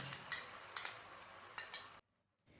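A spoon stirs mustard and spice paste in a hot pan for egg curry, giving a soft, steady sizzle with a few scraping clinks for two seconds before going quiet, faint and close, with no talking.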